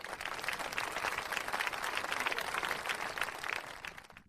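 A television studio audience applauds a 19-year veteran doctor called up as a volunteer, a dense, steady wash of many hands clapping at moderate distance, sustained for several seconds before easing off.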